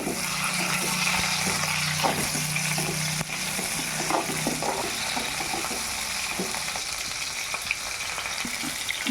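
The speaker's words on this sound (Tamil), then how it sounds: "இந்த ஒரு அரை தக்காளி போட்டால் வதங்கட்டும்." Half a tomato sautéing in a pan with sliced ridge gourd nearby, a continuous close frying crackle with soft stirring taps and scrapes, no talking.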